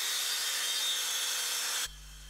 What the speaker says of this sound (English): I'm going to use my new Bosch 18-volt track saw to get this cut out.